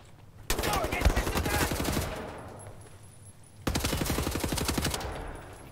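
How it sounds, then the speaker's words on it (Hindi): Two long bursts of rapid automatic gunfire in the game Wolfenstein, loud and close, separated by a brief lull, with faint game ambience underneath. "बाहर गोलियां देख रहे हो तेज चल रही है"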